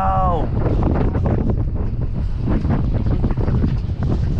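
Strong wind buffets a fishing charter boat off Block Island, a constant loud roar and rumble that fills the whole stretch with no letup.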